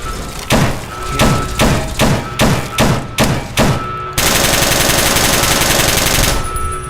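An automatic gun in Fallout New Vegas fires a loud, close series of about eight rapid, evenly spaced shots, followed by a steady dense blast of sustained fire for a few seconds.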